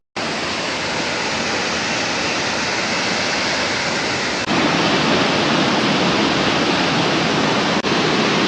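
Kodige waterfall in Kudremukh pours in full flow, a dense, loud, unbroken roar of rushing water that swells even louder partway through.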